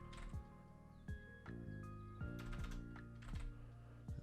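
Computer keyboard typing in quick irregular bursts of close, crisp key clicks, with soft game tones and chimes in the background.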